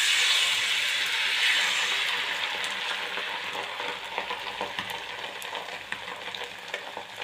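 Beaten salted egg hits a hot pan with a loud, steady sizzle for a breakfast bread omelette, the frying hiss easing slightly over time, with faint stirring or scraping ticks near the end.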